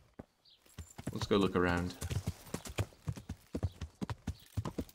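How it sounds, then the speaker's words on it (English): Horse hooves clip-clop in a steady walking rhythm in a medieval role-playing video game, with a brief whinny early on and someone talking over the hoofbeats. "Horse."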